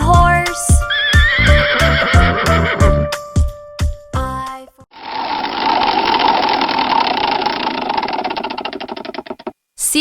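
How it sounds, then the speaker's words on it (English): A horse neighs in an alphabet animal app, opening with a loud, shaky whinny and sharp snorting pulses, then giving way to a steady, noisy rumble. "H is for horse."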